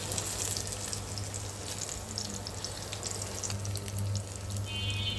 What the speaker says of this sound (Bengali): একদম লো ফ্লেমে চিকেনগুলো ভাজতে হবে যেন ভালো মতো ভেতর থেকে সেদ্ধ হয়।